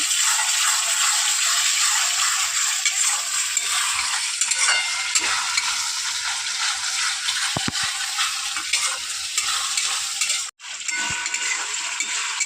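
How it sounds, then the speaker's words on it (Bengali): Ground spices for doi katla fry in a pan with a bright, continuous sizzle, close and loud, as a utensil stirs through them with occasional light knocks and a brief dip near the end. "সমস্ত মশলা দিয়ে আমি একটু ভালো করে কষিয়ে নিচ্ছি।"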